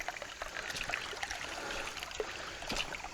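A small forest stream trickles and babbles steadily near its source, a continuous broadband wash of running water with no voices over it.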